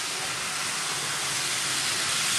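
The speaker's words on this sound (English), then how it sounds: "American steam engine" A toy American steam engine, an NYC 0-4-0T tank locomotive, gives off a loud, continuous hiss of escaping steam, close and steady throughout.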